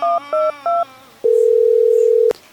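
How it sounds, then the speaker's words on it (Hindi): Three short beeping tones are followed by a steady, loud telephone tone that holds for about a second before cutting off. "अब जाके फोन लगाई आराम से"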